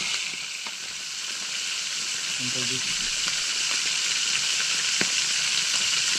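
Food sizzles and fries steadily in a pan, a broad hissing crackle close by, with a brief voice speaking briefly over it.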